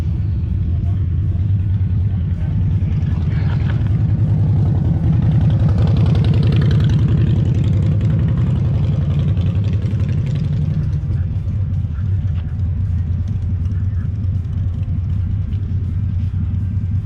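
An antique Harley-Davidson generator shovel motorcycle engine idles at a national antique motorcycle club meet, a steady low rumbling throb that stays loud and continuous while people talk nearby.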